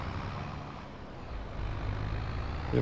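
Steady rumble of trucks and cars in Farming Simulator 22, a continuous low engine drone of road traffic building slightly louder toward the end.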